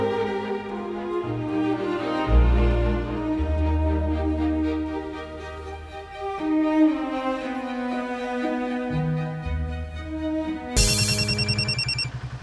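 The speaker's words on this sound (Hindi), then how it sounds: "फोन बजता" A telephone ringtone plays loud and alone, a repeating melodic electronic tune with a bass line that switches to a brighter, higher ringing pattern near the end.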